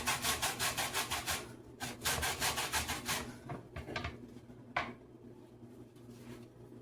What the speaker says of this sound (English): I'm going to get a little bit of orange zest.